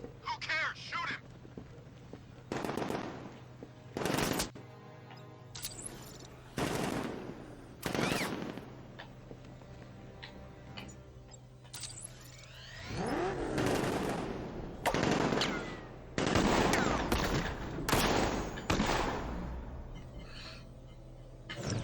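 Enemy thugs fire guns in Batman Arkham Knight, with loud, spaced bursts of shots separated by quieter stretches and a steady low hum in the background.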